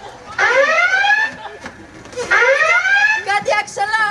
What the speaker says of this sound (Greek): Ω Παναγιά μου, συναγερμός!